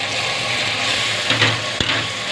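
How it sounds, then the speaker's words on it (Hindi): Masala spices with salt, red chilli powder and turmeric sizzle in hot oil in a pan for aloo baingan sabzi, a steady loud fry with a brief stir clatter near the end. "1-2 सेकंड तक हम इसको फ्राई करेंगे मसालों को, ताकि इनका कच्चापन दूर हो जाए।"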